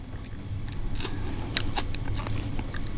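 Someone eats mie titi, Makassar crispy noodles in thick egg-style gravy topped with bird's eye chilies, with soft close chewing and slurping, a few sharper crunchy bites standing out over a low steady background.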